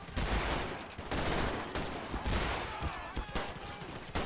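Dense gunfire in a Garry's Mod cops-versus-robbers battle, rapid overlapping shots and bursts that come in loud waves with hardly any pause.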